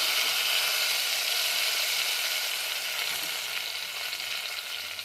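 Garlic and soaked tamarind go into a hot tempering for toor dal pappu, giving a loud, continuous sizzle and crackle that fades slightly toward the end, with no talking.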